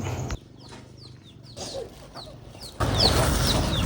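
Chickens in an African village cluck and squawk in short bursts over a low ambient murmur, the calls scattered and close, with louder rustling and activity in the final second.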